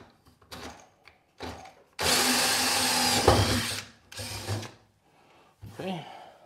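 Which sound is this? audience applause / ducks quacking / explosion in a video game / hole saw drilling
hole saw drilling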